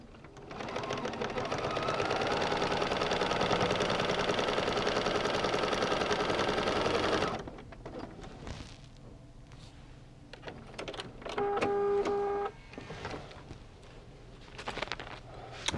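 A sewing machine stitches a paper-pieced stained glass quilt in a steady, fast run for about seven seconds, followed by quieter handling noises and a brief burst of mechanical whirring.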